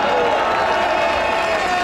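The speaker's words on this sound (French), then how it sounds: "Je vous prie d'applaudir Dominique Bourse-Provence." A rally crowd at a demonstration at a prefecture applauds and cheers in a dense, steady roar of clapping and voices that fills the whole moment.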